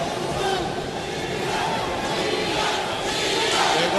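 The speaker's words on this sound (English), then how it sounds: "There goes the crowd." Crowd at a boxing match between Erik Morales and David Diaz roaring loudly and continuously, a dense sustained wall of cheering and shouting throughout.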